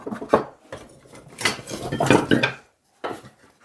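A bird feeder structure is knocked together by hand, with irregular close knocks and clattering bursts separated by short pauses and a silent gap before a final strike.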